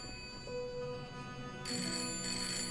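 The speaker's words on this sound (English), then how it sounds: "Oh, there's the phone." Telephone ringing in the horror video game Layers of Fear, a steady electronic tone that swells into a bright, continuous ring near the end, fairly quiet with no talking over it.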